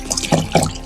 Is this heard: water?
yes